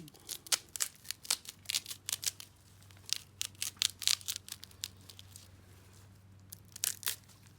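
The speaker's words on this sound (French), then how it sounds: "on va couper les racines pour regarder l'état sanitaire" A blade cuts through endive roots in a series of crisp snips and tearing crunches, close and moderately loud, irregular bursts over a low steady hum, with no one talking.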